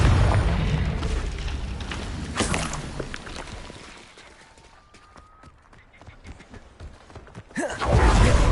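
Blasting spells explode in Hogwarts Legacy: a heavy boom opens, then debris and crackling tail off into a quieter stretch before another loud burst lands at the end.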